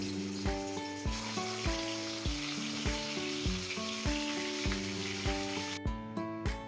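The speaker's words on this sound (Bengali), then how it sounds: "তেল গরম হয়ে গিয়েছে, এবারে আমি মাছগুলোকে ভেজে নেব।" Pieces of catla fish frying in hot oil, a steady close sizzle with regular rhythmic clinks or tonal thumps repeating about every half second throughout.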